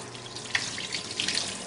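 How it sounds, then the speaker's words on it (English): Tap water running over food in a colander for a rinse: a steady close splashing hiss with brief spattering bursts, continuous and moderately loud, no voices. "I just put it in the colander where I'm going to rinse it again"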